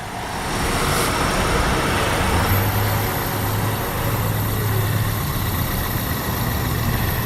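A 1999 Toyota Corolla engine idles smoothly with a steady, continuous hum and no revving, with light background noise throughout.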